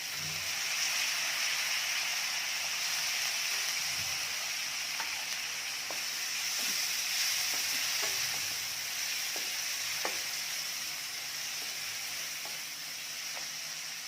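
Chana dal and turmeric sautéing in a pan for cabbage bhaji give a steady, close sizzle throughout, with occasional light clicks of stirring.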